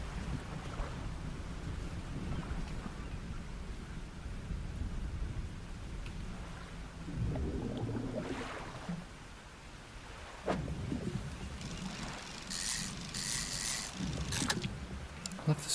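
Rain and rolling thunder in the fishing game Dredge form a steady storm ambience of hiss and low rumble, with brighter bursts of rain and splashes toward the end. No voices are heard.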